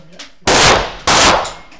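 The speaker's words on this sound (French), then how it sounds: "je pense qu'on va s'arrêter un petit moment pour faire des tirs" Two loud, sharp gunshots ring out about half a second apart during a gun shop event, each a close blast with a decaying tail, after a faint voice.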